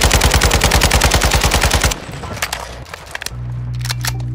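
Rapid machine-gun fire rattles loud and close in the video game Warzone 2.0 DMZ, a steady burst of about twenty rounds lasting two seconds, followed by scattered softer shots and clatter.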